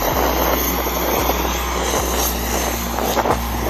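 A light aircraft engine drones steadily at a small airport in Namibia, a continuous loud hum with strong low throb and broadband noise, no voices.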